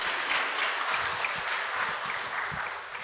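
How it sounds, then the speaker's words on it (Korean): A church congregation at a Korean Sunday worship service claps together for a few seconds, dense and steady applause filling the room and tapering slightly at the end. "우리 박수 한번 해주세요."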